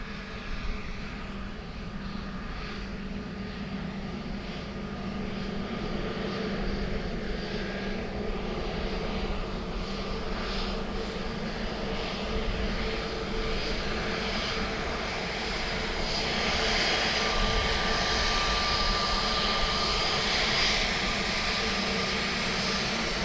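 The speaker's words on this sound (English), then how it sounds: "Delta 767 next in from Boston." A Delta Boeing 767 jet airliner arriving from Boston at Dublin Airport makes a broad, steady engine roar that slowly builds over a long stretch, with no voices.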